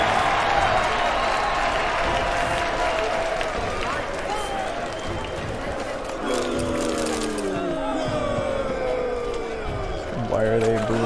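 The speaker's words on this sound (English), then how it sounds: "Why are they booing me?" Crowd noise from a jeering arena audience in The Witcher 3 swells steadily as a broad wash of many voices, with a speaking voice heard over it and clattering game sounds near the end.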